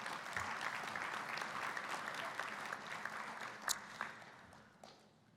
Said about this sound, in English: Can we have one more round of applause for our panel